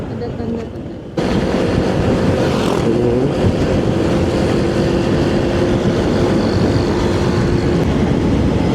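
A PO Sinar Jaya bus passes a touring motorcycle on a road in Ciamis, a loud sustained engine roar and road rumble that rises suddenly and holds steady under heavy wind noise.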